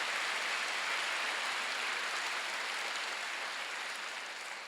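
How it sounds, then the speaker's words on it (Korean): Loud, continuous applause from a church congregation during a Sunday worship service, a dense wash of clapping that holds steady for the whole stretch and tapers slightly at the end, with no voices. "박수 세게 쳐봐요"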